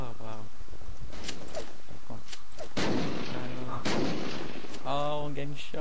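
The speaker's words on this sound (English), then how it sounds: "Oh, I'm getting shot." Gunfire in the video game Unturned during a grenade deathmatch, a few loud sharp shots and blasts cutting through steady chatter, with people talking throughout.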